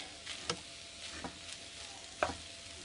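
Soft sizzling of food frying in a pan with a few scraping stirs of a utensil, fairly quiet and close.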